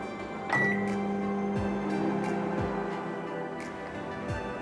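A microwave oven roasting salted peanuts at full power hums steadily with a low drone, a beep near the start and soft ticking clicks at intervals, quiet and close.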